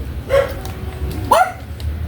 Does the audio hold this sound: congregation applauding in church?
no